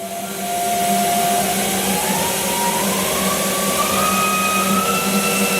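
A 2018 Haas ST10Y CNC lathe spindle spinning steadily at 1,000 RPM, a continuous close whine with a smooth tone that drifts slightly higher, no voices.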